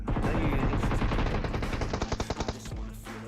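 Rapid automatic gunfire in PUBG Mobile rattles in fast bursts, dense and continuous before breaking into quicker, spaced shots near the end.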